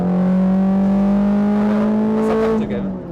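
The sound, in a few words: Peugeot 206 RC accelerating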